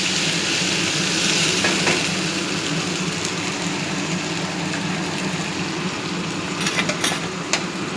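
A paste of onion, ginger, garlic and tomato frying in a pan gives a steady, close sizzle that holds evenly, with a few light utensil clinks near the end.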